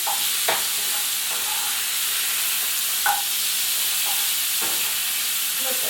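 Food sizzling steadily in a hot frying pan, a constant loud hiss with a few soft clicks and scrapes as it is stirred and flipped, no talking.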